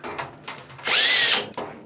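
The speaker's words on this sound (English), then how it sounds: "we gotta drill some holes and we add this plastic conduit in there. So I'm gonna drill one right now." A power drill bores a small pilot hole for plastic conduit inside a campervan, a loud, close whir lasting about half a second between softer handling noises.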